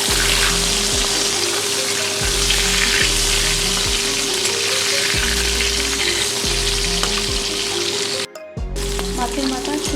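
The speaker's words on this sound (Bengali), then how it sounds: "মাছের মাথাগুলো ডুবো তেলে আমি ভেজে নেব।" Fish heads deep-frying in plenty of oil in a kadai give a loud, steady, close sizzle with soft low knocks, briefly cutting out for a moment near the end before resuming.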